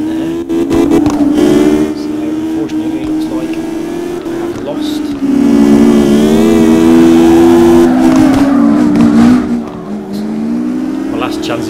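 A drifting car in CarX Drift Racing Online holds a loud, sustained engine rev that rises and dips in pitch as it slides through corners, with someone talking over it throughout.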